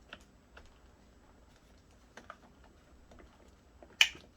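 A single sharp click of the latch on a Vacmaster Captura vacuum snapping into place, loud and close near the end, after a stretch of faint handling ticks.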